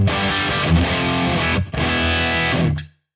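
Distorted electric guitar through a Tube Screamer style boost pedal on a PolyChrome DSP HyperRig, with a warm, overdriven tone, playing sustained chords loudly, with a brief gap midway before ringing out and fading.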